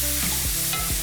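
A knob of butter hisses and sizzles loudly in a hot pan of golden-fried porcini mushrooms, with a brief scrape of stirring.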